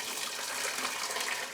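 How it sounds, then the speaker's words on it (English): Boiling water from a kettle pours steadily into a pot, a continuous close splashing gush with no voices over it. "put boiling water in the kettle"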